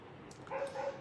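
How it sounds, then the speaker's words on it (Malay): A dog barks in the background, a faint yapping burst of two or three quick, thin barks at a distance, with no speech over it. "kasar anjing belakang Man Selangor,"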